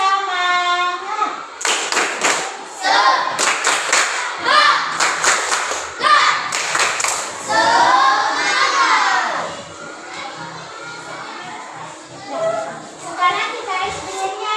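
A group of children joins in a rhythmic clapping chant, bursts of sharp claps in steady patterns mixed with shouted voices, close and lively throughout, with the clapping thinning toward the end.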